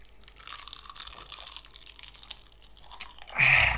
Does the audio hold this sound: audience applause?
no